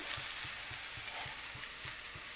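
Chopped onion fries with torn fresh curry leaves in a pan while bitter gourd pulusu is cooked, giving a soft, steady sizzle with a faint regular stirring tap throughout and no talking.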